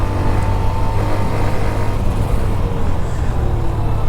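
A Hero Xtreme 125R motorcycle engine held at high RPM, a steady loud drone with a strong low hum and little variation, running close by without speech.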